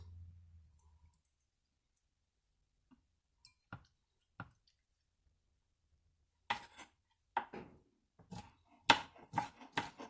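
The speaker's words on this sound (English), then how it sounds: "let's get some of these shrimp chopped up" A knife chopping cleaned, deveined raw shrimp on a cutting board, a few isolated soft taps at first, then a quicker run of close, crisp chops with no talking.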